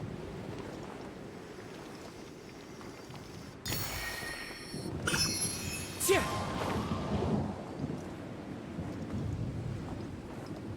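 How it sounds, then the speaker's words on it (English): Lightning strikes and thunder in the Genshin Impact video game, with sharp crackling bursts and a rumbling boom over a low, wind-like ambient wash. "Fun with lightning, folks."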